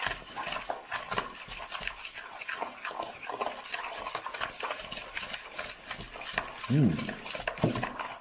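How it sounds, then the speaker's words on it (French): Cake batter for a yogurt cake being stirred in a bowl, a steady scraping swish of the utensil against the bowl's sides with a couple of sharper knocks near the end, close and fairly quiet, with no talk. "je vais pouvoir à nouveau remuer un coup"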